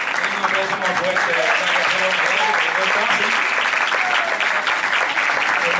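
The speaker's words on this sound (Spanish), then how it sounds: "Un aplauso más fuerte" Loud, sustained applause from a church congregation at a testimony service, steady and dense throughout with a few voices mixed in.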